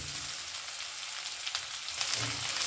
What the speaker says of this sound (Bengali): টমেটোটা দিয়েও ভালো করে একটু নাড়াচাড়া করে নেব